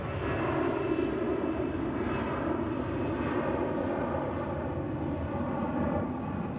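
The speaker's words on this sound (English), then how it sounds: "Edelweiss A320 with the Help Alliance livery" An Edelweiss Airbus A320 jet at Zurich Airport gives a steady, loud engine roar with broadband rumble that holds unbroken throughout, no voices over it.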